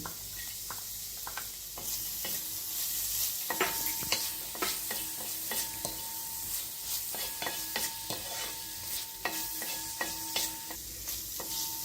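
Chopped cashew nuts frying in a pan for dragon chicken, a steady close sizzle broken by repeated clinks and scrapes of a spatula stirring against the pan, with no one talking.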